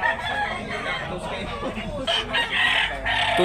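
Chickens cluck and a rooster crows at a poultry market in Talisay Tabunok, Cebu, where white-leg fowl are sold. The calls come close and loud over a steady backdrop of market chatter, with a sharper crowing burst near the end.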